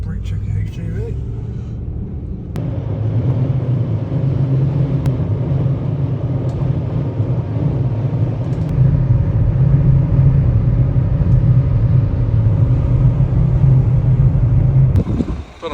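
A 6 or 8 cylinder diesel vehicle engine at a port in Morocco gives a steady, deep, close rumble that holds throughout, with voices over it.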